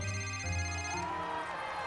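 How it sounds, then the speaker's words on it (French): A telephone rings at close range, a bright electronic trill that repeats in quick bursts with no one talking over it. "Laissez ce téléphone tranquille. Laissez sonner."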